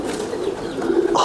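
Pigeons kept for breeding coo softly and briefly, a low murmuring call close by with no talk over it.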